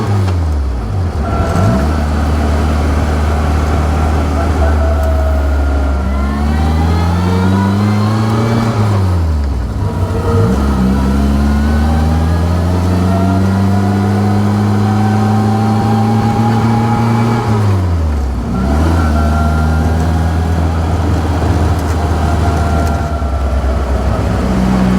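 A right-hand drive Bugeye car drives along with its engine running loud and close, revs climbing steadily and dropping sharply at each gear change, over about twenty-five seconds with no talking.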